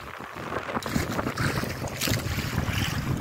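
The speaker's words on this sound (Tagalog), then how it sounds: "mahangin guys yung alon-alon" Strong monsoon wind buffets the microphone while waves slap and churn around a small fishing boat at sea, a continuous loud rushing roar with no voices.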